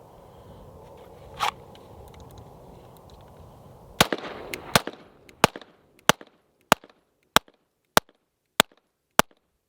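CZ Space Blaster pistol fired ten times outdoors, sharp evenly spaced cracks about two-thirds of a second apart, loud and close after a short stretch of quiet handling noise.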